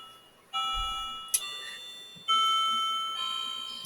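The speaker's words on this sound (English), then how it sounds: "there goes my alarm on the wall right there" A wall clock's alarm chimes in sustained bell-like tones, sounding two long notes with a brief click between, ringing out in a quiet room.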